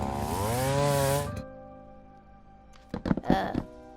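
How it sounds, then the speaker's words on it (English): A chainsaw from the Ores+ mod in Minecraft cuts down a tree. It makes a loud, sustained buzzing whine with rising and falling pitch for about a second and a half, then stops. A few short, clattering bursts follow near the end. "this is what the chainsaw does"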